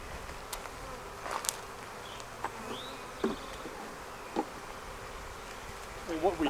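Honey bees buzzing in a Flow Hive, a faint steady hum of many insects with a few individual bees droning past close by.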